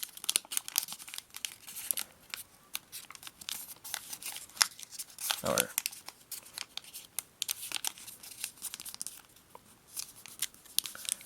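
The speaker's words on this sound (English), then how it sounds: "Then we'll take these edges again and fold them into the center." Paper folded for an origami star, close crisp crinkling and creasing with quick rustles and one longer swishing slide midway, continuous and fairly quiet, with no talking.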